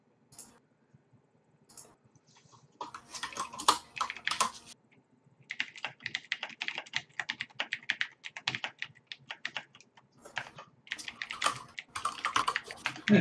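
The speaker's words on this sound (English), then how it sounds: "Everyone's typing, and I love it." Several people typing on computer keyboards during a card game with friends, bursts of quick, light clicking keystrokes in uneven runs, close and fairly quiet, with pauses between flurries.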